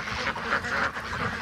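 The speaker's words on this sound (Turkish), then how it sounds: "Ördekler bu tarafa atmış kendilerini." Ducks quack repeatedly in a nasal, honking chorus, close by, over a steady outdoor background.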